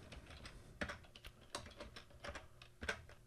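Typing on a computer keyboard while entering text into an Excel spreadsheet, a quick run of light clicking keystrokes with a few sharper taps standing out, close and fairly quiet with no voices.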